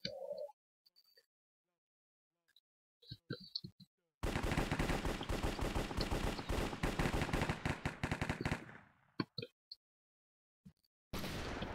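Rapid gunfire from a Minecraft Hypixel Cops and Crims match, loud and dense for about four seconds, with short scattered shots and clicks before and after and quiet gaps in between.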